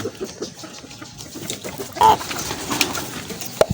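Chickens peck and cluck softly while eating hog starter pellets, a busy scratchy patter of close feeding with a couple of brief louder clucks near the end.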